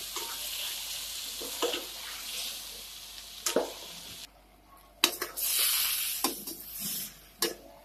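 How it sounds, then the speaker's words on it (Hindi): Spices stirred and fried together with drumstick (sahjan) vegetable pieces in a pan, giving close, intermittent scraping stirs over a soft sizzle, with short bursts of louder frying and brief pauses in between. "तो मसाले को हम अच्छे से सब्जी के साथ मिलाकर भून लेते हैं और अच्छे से पका लेते हैं।"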